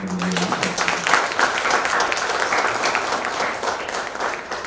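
Audience applause at a Guru Puja celebration held by a classical dance school in Hyderabad: a broad, steady wash of many hands clapping together, loud and sustained throughout with no pause.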